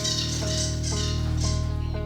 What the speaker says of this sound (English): We're even playing wetland sounds with the bird chirping.